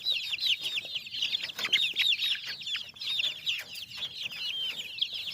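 A group of chicks on a farm cheep and cluck continuously in high, busy chirping calls, close and fairly loud with no talking.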